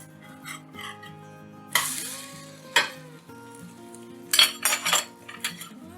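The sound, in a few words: spatula flipping a crepe on the pan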